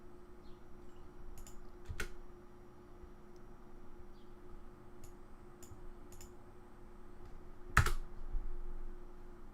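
Typing on a computer keyboard while setting up an OpenCore bootable USB for an AMD Ryzen Hackintosh: sparse, faint key clicks over steady background hiss, with a couple of sharper louder taps.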